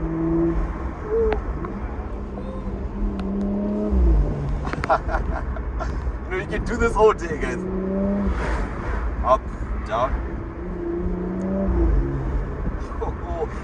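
A 2018 Porsche Macan GTS engine hums and revs up and down while someone talks excitedly over it, with intake noise rising on each throttle blip.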